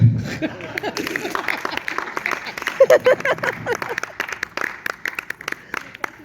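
Audience at a poetry reading applauding, a dense burst of clapping that thins into scattered claps, with a voice briefly audible at the start.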